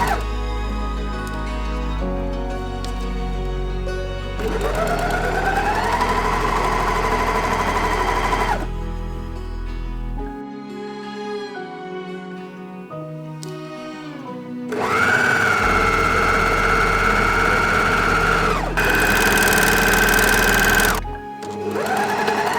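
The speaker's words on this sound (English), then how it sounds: "Now we can sew the side seams." A sewing machine stitches the side seams of a knit fabric vest in several long whirring bursts, its motor rising in pitch as it speeds up, separated by short pauses and clicks, loud and close.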